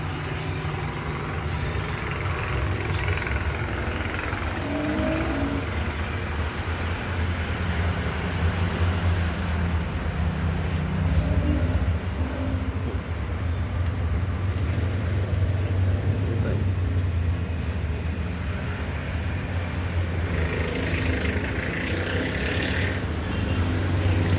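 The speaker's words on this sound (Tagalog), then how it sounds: "Ayun, umandar na yung compressor." A Panasonic inverter split-type aircon compressor runs after a control board repair, with a loud, continuous low hum and broadband rumble that holds steady throughout.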